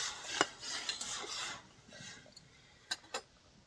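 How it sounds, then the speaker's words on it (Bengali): Rohu fish being stirred with a little salt in a pan of nearly boiling water, giving quiet scraping and clinking of a utensil against the pan, with a few sharper taps near the end. "অল্প লবণ দিয়ে দিব, নেড়ে নেব।"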